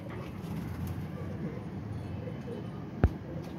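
Pigeons coo low and soft, a murmuring flock heard amid background noise, with one brief sharp knock near the end.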